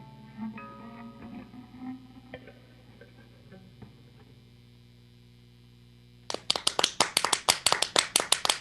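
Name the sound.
applause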